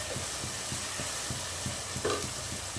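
Chicken masala sautés in a pan with salt and curry leaves, giving a steady sizzle under rhythmic scraping stir strokes about four times a second, with no speech.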